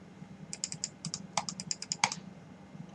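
Rapid bursts of clicky keystrokes on a computer keyboard during a PC shooter game, close and crisp in irregular clusters over a low steady hum, with no talking.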